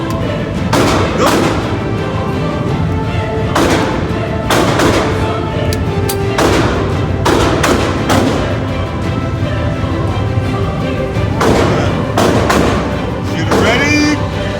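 Handgun shots crack repeatedly at an outdoor shooting range during a concealed carry qualification, a steady string of sharp, loud reports spaced about a second apart, with range commands spoken between them.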